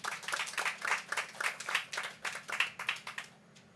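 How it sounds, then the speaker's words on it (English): Quiet audience applause at an outdoor handover ceremony for a solar power system, a few seconds of scattered clapping that fades out at the end. "Let's give our local guys a round of applause."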